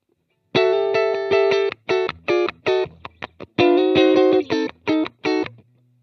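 Funky clean electric guitar played through a Positive Grid Spark amp on its Blackface Duo model with the mids boosted. Short, choppy strummed chords come in a syncopated rhythm with sharp stops, loud and close, with no talking.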